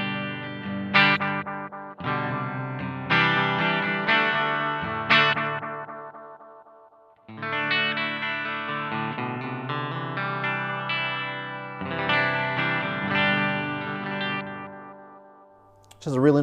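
Electric guitar runs through an Analog Alien Rumble Seat delay pedal set for extra repeats, so strummed chords and single notes trail off in audible echoes and decay, heard clearly with no one talking.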